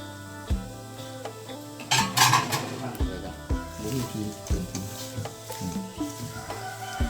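Chicken offal is stir-fried in a pan with rice paddy herb, spring onions and kaffir lime leaves: repeated spatula scrapes and clanks over a constant sizzle, with someone talking intermittently.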